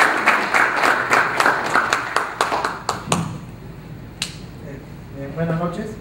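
An audience applauds a guest speaker at a lubricants industry workshop, a dense burst of many hands clapping for about three seconds before fading out, with a single sharp clap later and a voice beginning to speak near the end.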